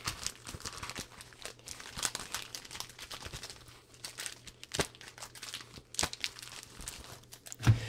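Crinkly foil Pokémon Champion's Path card packs rustle and crackle continuously as they are handled and shuffled, close up, with sharp crisp snaps throughout.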